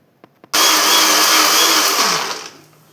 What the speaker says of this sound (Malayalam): 1 കപ്പ് വെള്ളം ഒഴിച്ചിട്ട് നന്നായി തന്നെ ഇതെല്ലാം കൂടെ ഒന്ന് ബ്ലെൻഡ് ചെയ്തെടുക്കാം